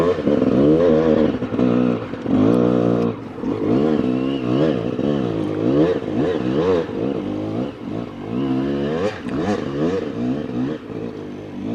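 A Kawasaki KX450X dirt bike, a 2021 woods bike, climbs a hill, its engine revving hard and loud with rising and falling pitch sweeps and clattering throughout, close by and continuous.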